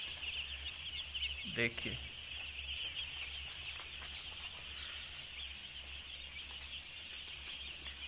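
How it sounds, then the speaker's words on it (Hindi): Two-day-old commercial broiler chicks on a large poultry farm give a dense, continuous chorus of high peeping, with a brief louder cluck-like call near the start and someone speaking briefly. "ये अभी आप डे टू के चिक्स देख रहे हैं।"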